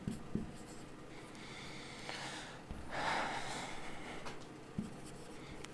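A chalk or pen scratches out a definition for a class 12 chemistry lesson on the solid state, close and rubbing in short strokes, with breathing in the quiet room and no speech.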